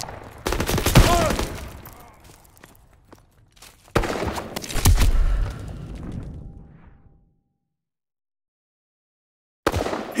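Gunfire in the Call of Duty: WWII video game during the Death Factory mission: sharp bursts of shots in two loud clusters, then fading rattle and silence before another burst at the end.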